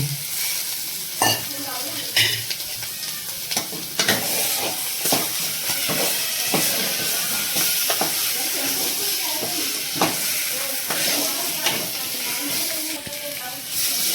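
Crabs fry in a pan for a spicy Konkan-style crab recipe, giving a steady, close sizzle with scraping stirs and clacks at irregular intervals throughout, with no talk.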